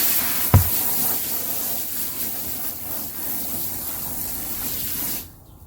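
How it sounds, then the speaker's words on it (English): Water poured into a small batch of soil block seed-starting mix, a steady soft gushing and splashing that starts with a brief thump and runs evenly before cutting off near the end. "I'm going to add the water."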